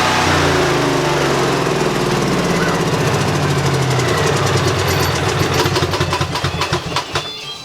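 A Honda 10,000 watt generator runs close by with a steady loud mechanical drone and a rapid knocking pulse, then fades slightly toward the end.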